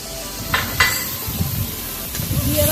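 A water-mixed paste of ground cumin and mustard hits hot oil in a pan for a Bengali tilapia curry, giving a steady close sizzle with a few sharp scraping clinks from stirring.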